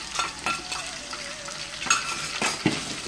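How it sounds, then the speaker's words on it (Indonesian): Onion, dried squid and dried shrimp stir-fried in a pan, a close sizzle broken by sharp scrapes and clacks of a spatula stirring, with no voices. "kita tumis hingga dia harum ya"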